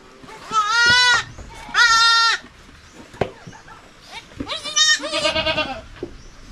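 Goats on a rural farm bleat in several loud, close, wavering cries, two long calls followed by a shorter run of bleats, separated by brief quiet.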